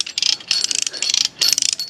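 Ratchet tightening a backyard zipline cable strung over a pond, rapid clicking pawl bursts in several quick strokes, close and fairly loud with short pauses between pulls.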